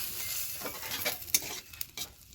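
Mustard seeds, cumin and dried chilli sizzle and pop in hot oil, with steady frying noise and a few sharp crackles, close and unaccompanied by speech.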